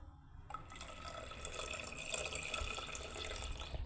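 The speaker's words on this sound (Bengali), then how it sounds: "আমি এবারে দুধটাকে ঢেলে দিচ্ছি" Milk pours into a cooking pan on a home stove, beginning abruptly as a close, steady liquid gush and splash that carries on evenly to the end.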